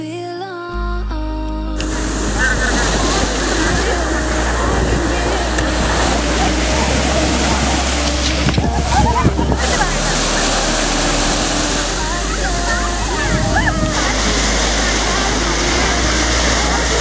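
Waves wash continuously over the sand of a Kerala beach near a fishing harbour, a steady broadband rush with a low rumble, loud and close, while people talk over it.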